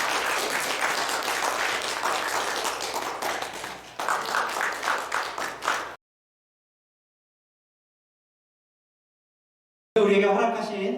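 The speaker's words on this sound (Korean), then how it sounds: "이 박수로 축복하도록 하겠습니다." A church congregation claps together during a Christmas Sunday worship service, sustained applause lasting several seconds with a brief pause and another burst, then silence before a voice speaks at the end.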